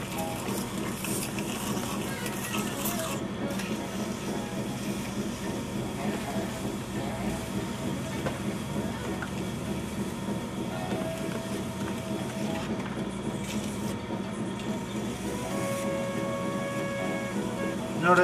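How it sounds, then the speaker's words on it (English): A trimming tool shaves clay from a custom sink turning on a pottery wheel, giving a steady close scraping whir over the wheel's continuous mechanical hum, unbroken for the whole stretch. "So I'm going to just start cutting this clay away."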